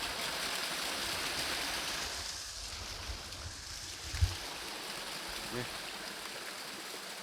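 Water flows steadily in a stream in Hwadam forest, a constant broadband rush heard close and continuous, with a couple of brief low thumps partway through.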